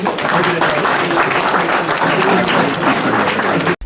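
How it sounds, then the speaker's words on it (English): A large audience applauds for an African female president, a dense, loud, continuous wash of clapping that holds steady for several seconds before cutting off abruptly. "Please give her a big round of applause."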